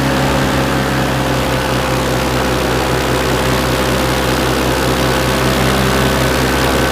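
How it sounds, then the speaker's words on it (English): A B-1 bomber at full afterburner passes roughly 600 feet overhead at EAA AirVenture Oshkosh 2017, a loud, steady, continuous roar that fills the whole stretch with no voices. "Nothing will wake you up quite like the sound of a B1 going full afterburners."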